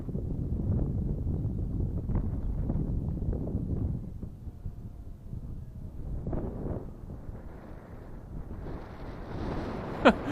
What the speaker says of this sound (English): The wind is plenty strong.